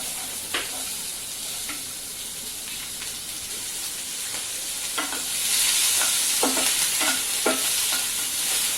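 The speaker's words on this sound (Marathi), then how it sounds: "या तेलामध्ये आपण कांदा टाकून परतून घेणार आहे।" Two large onions frying in hot oil in a pan while being stirred, a steady bright sizzle with repeated scraping strokes of the spoon, the sizzle growing louder midway.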